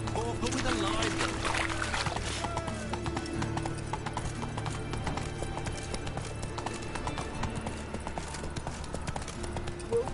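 Geralt's horse Roach gallops in The Witcher 3, producing fast, dense hoofbeats amid busy outdoor ambience with voices talking over it.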